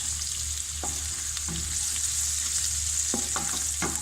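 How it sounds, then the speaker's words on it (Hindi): Onions frying in oil over a medium flame: a steady, bright sizzle runs throughout, broken by a few sharp stirring knocks and scrapes, heard close up with no voices. "फ्लेम जो है मैंने मीडियम रखी हुई है। प्याज को हमने हल्का सा सॉफ्ट करना है।"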